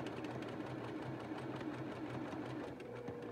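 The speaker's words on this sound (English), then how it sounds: "So we're gonna actually start sewing down at the elastic." A sewing machine stitches down the elastic on a fabric face mask, backstitching as it goes, with a steady, continuous motor whir running close and loud throughout and no talking.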